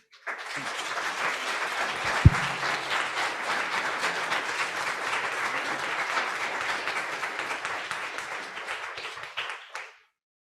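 Steady audience applause after remarks at a report launch event, a dense even patter of many clapping hands sustained for about ten seconds before stopping abruptly.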